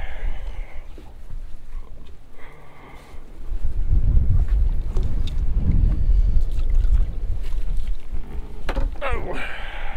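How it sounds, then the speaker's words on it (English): Wind buffets the microphone on a small fishing boat out on the water, a steady low rumble that swells louder midway and keeps blowing to the end, with faint handling knocks and no talk. "Wind's kind of blowing me around"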